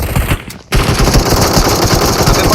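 Rapid automatic gunfire in a shooter video game rattles in loud, tight bursts, with a short gap near the start before a steady stream of shots carries on to the end.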